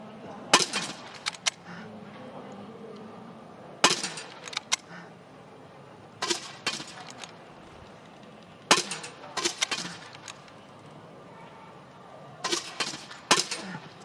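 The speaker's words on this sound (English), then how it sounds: "Absolutely impeccable shooting from Batinkova Baumann." Rifle shots crack at a para biathlon shooting range during a 12.5 km or 12 km final, sharp distant reports in spaced clusters of two or three over steady outdoor crowd ambience.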